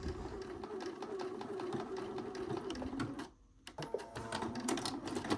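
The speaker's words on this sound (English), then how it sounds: "I'm just going to go ahead and sew this into place. And we are going to go ahead and back stitch over it" Sewing machine stitching fabric in a steady whirring run, with a brief pause before it resumes to back stitch over the seam; close and clear, no talk.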